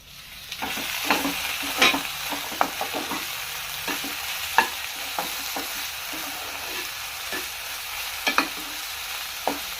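Okra (bendakaya) frying in a pan for garelu pulusu, with a continuous close sizzle punctuated by repeated scraping stirs and clinks of the spatula at an irregular rhythm.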